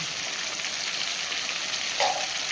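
Dried red chilli, cumin, bay leaf, cinnamon and cardamom fry in hot oil with a steady, close sizzle and a brief clink near the end.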